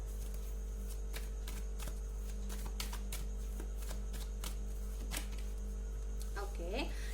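Tarot cards are handled and set aside with a steady run of soft, close card flicks and slides over a constant low hum, and a voice comes in near the end.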